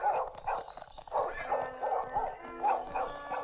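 A hunting pack's hound barks repeatedly in a forest during a deer hunt, a run of close, overlapping yelps and bays with brief pauses between bursts.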